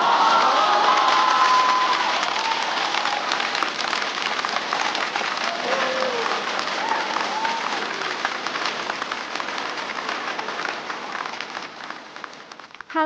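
An audience at a stand-up comedy show applauds to welcome a new comedian to the stage, a loud, dense wash of clapping that gradually thins and fades over several seconds.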